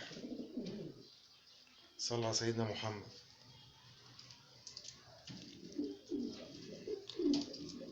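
Soft cooing of Roman pigeons in short bursts, mixed with someone talking nearby and some background noise.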